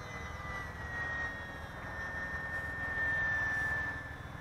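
A steady electric whine drones on at an even pitch, slightly rising and falling, like the small electric motor of a UMX ICON A5 RC model plane holding half throttle in the distance.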